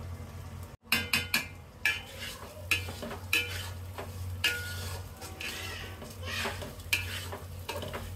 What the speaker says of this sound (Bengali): চালটা ভালোভাবে ভাজা হয়ে গেলে আমরা এখানে পানি দিয়ে দেব।